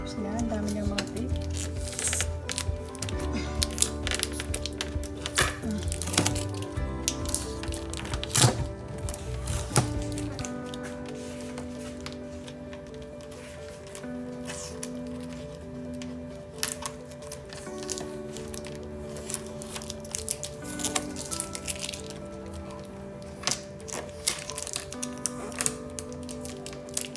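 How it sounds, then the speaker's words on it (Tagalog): Packing tape is peeled off a new refrigerator in bursts of crackling, tearing and rustling across the whole stretch, with thumps and handling noises in between and no talk. "Tatanggalin muna natin yung mga tapes niya."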